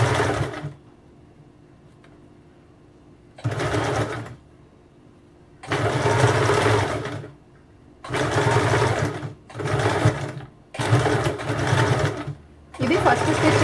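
A sewing machine runs a first line of stitching along blouse piping in several separate bursts, each a steady close whirring with short quiet pauses between runs.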